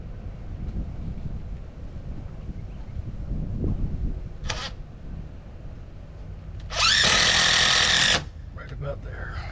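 A power drill drives a screw into a garden gate post outdoors, one loud steady burst of about a second and a half standing out over wind noise and low background rumble.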